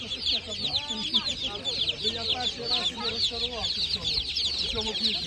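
Many chickens and chicks cluck and chatter continuously at a livestock market in Kolomyia, a dense flock sound with a busy murmur of voices mixed underneath.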